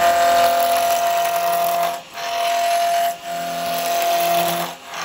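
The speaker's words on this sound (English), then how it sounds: "Just going to use my small roughing gouge." A small roughing gouge cuts a wooden handle spinning on a lathe, giving a steady, close scraping whir. The cut stops briefly three times as the tool is lifted away, then resumes.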